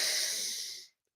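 One long, deep breath rushes steadily through the airways with an airy hiss during a breathwork exercise, close and clear, then cuts off into silence.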